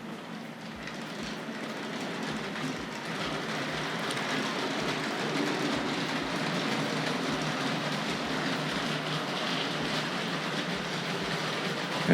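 A Tri-ang R.53 Princess Elizabeth model locomotive running on a track: a steady soft whirring hum with regular light clicks of wheels over rail joints, continuous and fairly quiet, with no talking.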